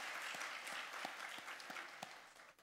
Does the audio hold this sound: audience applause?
yes